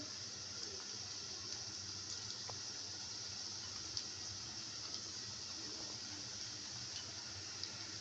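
Puffed rice pakoras sizzle in hot oil in a pan over a medium flame, giving a soft, steady hiss with scattered small crackles and pops, faint and uninterrupted.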